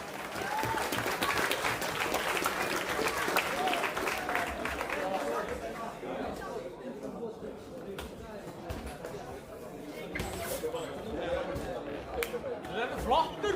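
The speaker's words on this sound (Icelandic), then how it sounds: "Gefum gott klapp." An audience at a competition event claps loudly for several seconds, then the applause fades into crowd chatter and scattered claps, with a brief burst of clapping again later.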